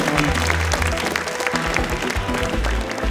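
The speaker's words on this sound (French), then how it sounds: "on peut l'applaudir aussi, Quentin, pour son travail." Conference crowd at a French tech event claps for the organizer; steady, dense applause runs throughout, mixed with loud low tonal music.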